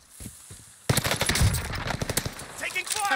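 Sustained automatic gunfire in the Warzone video game, a burst of rapid machine gun shots starting abruptly and continuing loud and close, with a player's voice calling out over the firing.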